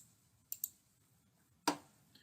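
A computer mouse clicks on a guideline in CorelDRAW: a quick pair of faint clicks, then a single sharper click a second later, in a quiet room.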